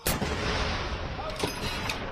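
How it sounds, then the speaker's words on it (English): Artillery gun salute fired in London for the proclamation of King Charles III, with a sharp booming report at the start and a second fainter blast later, over steady outdoor crowd ambience with murmuring voices. "the thunder of artillery"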